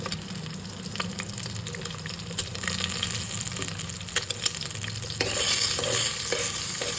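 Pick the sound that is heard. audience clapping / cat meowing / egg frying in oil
egg frying in oil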